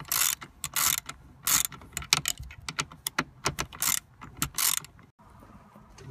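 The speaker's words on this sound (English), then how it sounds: "Alright, screws loose. Let's twist it out." A Torx screw being worked loose from a BMW seat belt buckle, a close series of quick ratcheting clicks in short bursts with brief pauses between them.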